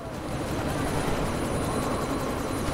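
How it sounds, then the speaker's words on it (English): A helicopter in the video game Deus Ex: Mankind Divided produces a steady, broad rotor and engine roar that holds at a constant level throughout, with no talk over it. "you need to disable that chopper"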